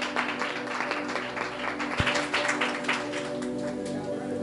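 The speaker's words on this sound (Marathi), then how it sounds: "जरा जोरदार टाळ्या प्रभूच्या गौरवासाठी." Congregation at a church service clapping together, a dense, steady wash of applause lasting several seconds, with a sustained tonal hum or music running underneath.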